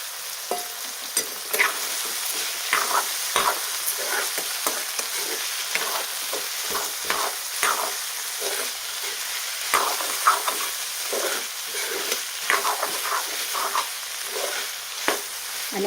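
Mixed vegetables for a traditional Bhogi bhaji being stirred in a pan, a continuous soft sizzle broken by frequent spoon scrapes and clinks against the metal, close and steady throughout.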